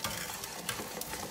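Garlic frying in a pan for spaghetti al limone, a steady close sizzle with light stirring scrapes running throughout.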